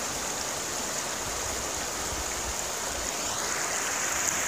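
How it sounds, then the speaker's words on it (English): The Kern River flowing beside California Route 178 near Lake Isabella, a steady, loud broadband rush of moving water with no breaks, close and continuous throughout. "So this is the Kern River."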